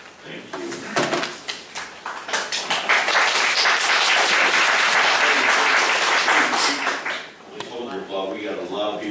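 Loud applause fills a Tavares, Florida city council meeting, with dense clapping from the audience that swells quickly, holds steady for several seconds, then tapers off near the end.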